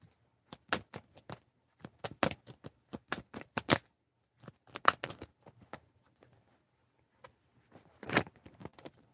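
Cards being shuffled in quick bursts of crisp riffling flicks, close and fairly quiet, with short pauses between rounds and no talking.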